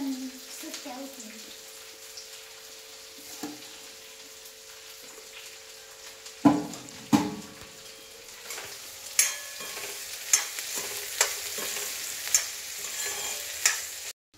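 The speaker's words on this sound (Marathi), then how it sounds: "भेंडीची भाजी ना आता शिजत आलेली आहे" Okra being cooked in a pan sizzles at low level, with stirring scrapes and sharp clinks becoming frequent in the second half; no one speaks.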